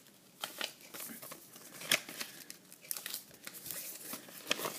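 Paper is handled and folded for an origami pillow, giving soft crinkles, creasing taps and rustling bursts close up that come faint and uneven, with no speech.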